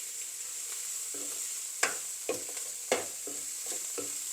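Dried baby prawns frying in oil for a Sri Lankan sambol make a steady close sizzle, with a few soft scraping stirs of the spoon against the pan.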